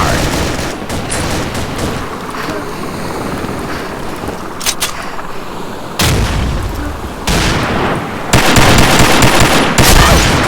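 Gunfire in a shooting video game, dense bursts of rapid automatic fire and explosions that grow louder toward the end, with a faint voice now and then under the shooting.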